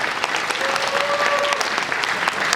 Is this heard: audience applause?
yes